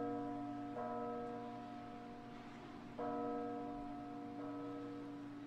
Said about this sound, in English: There's four bells you gotta ring. I think this was my third one.